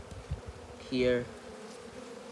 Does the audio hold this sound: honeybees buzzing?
yes